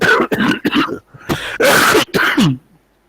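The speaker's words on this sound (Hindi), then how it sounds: "अब आ रही है आवाज खांसी की?" Several harsh coughs and throat-clearing bursts come in quick clusters, close and loud, separated by short pauses before fading out.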